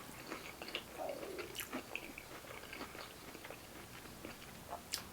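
Someone chews a bite of Popeyes food with shrimp up close, with soft crunches and wet chewing sounds coming irregularly over a quiet background.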